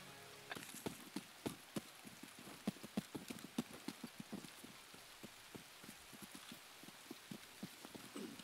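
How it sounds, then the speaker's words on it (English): Rain in the video game Escape from Tarkov patters in irregular drops and heavier taps against a surface, a busy, uneven spattering that continues throughout at a moderate level. "I can't hear you over the rain."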